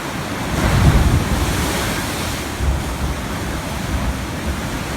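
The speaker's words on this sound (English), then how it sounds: "the sound of the waves as they crashed onto the shore" Ocean waves rolling and breaking onto a beach shore, a steady broadband wash that swells near the start and again midway, with wind buffeting the microphone throughout and no voices.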